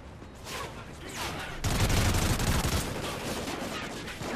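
Sustained gunfire from Call of Duty Ghosts erupts behind the players, a dense continuous rattle of shots that swells louder partway through, with voices talking over it.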